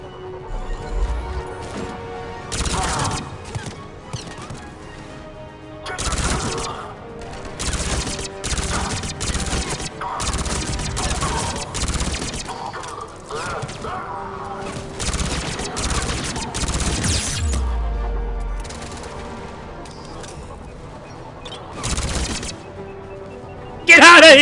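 Turret gunfire from Mass Effect 3 crackles in dense, broadband bursts, some long and some clipped short, with gaps between them. A person talks over the loud shots throughout.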